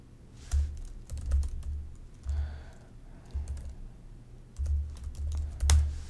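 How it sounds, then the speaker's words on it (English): Someone types on a computer keyboard in several bursts of quick, close keystrokes with short pauses between them, and no talking. "Type in your credentials if it asks"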